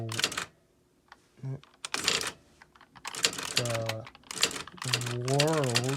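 Keys clack in short bursts on a computerized typewriter, struck with one hand, with brief pauses between runs of keystrokes and a person speaking over much of the typing.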